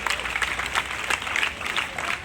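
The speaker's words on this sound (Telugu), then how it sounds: "మరి గట్టిగా చప్పట్లు కొట్టి రేపు నేషనల్కి వెళ్ళబోతోంది." An audience claps steadily for a young karate gold medalist at a government high school event, dense applause holding at an even level throughout.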